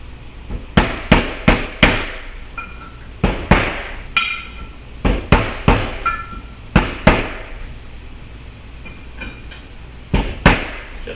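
An overhead valve part being tapped down into its seat with a socket, giving a series of sharp metallic knocks in irregular clusters, loud and close with no voices.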